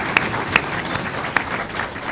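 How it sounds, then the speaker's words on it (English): An audience at a newspaper's pre-election panel discussion gives a round of applause, a soft, diffuse patter of clapping with a few sharper claps standing out near the start. "Always start off with a round of applause."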